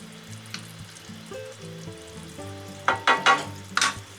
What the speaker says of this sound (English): So we'll let that simmer away for a little while